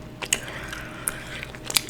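Close, quiet gum chewing in an ASMR setting: soft wet smacks and sharp little clicks at an irregular rhythm, with no talking.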